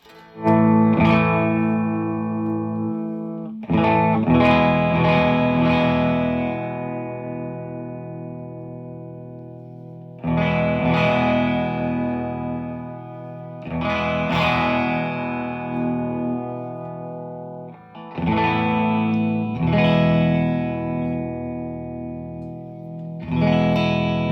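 Electric guitar chords ring out through a gritty, overdriven tone, strummed in several long sustained phrases with short pauses between them.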